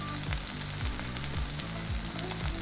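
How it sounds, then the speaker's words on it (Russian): Steady, loud sizzling of a ribeye steak frying in a hot pan, a continuous crackle with a low repeating hum underneath and no talking. "Как сковорода хорошо будет разогрета, выкладываем жариться мясо."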